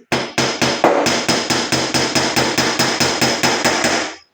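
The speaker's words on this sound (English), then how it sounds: "when you hammer the weld, it'll spread it back out" Steady metal hammering on a weld in a BMW E30 car door, about sixteen sharp, ringing blows in an even rapid rhythm, close and loud with no talking.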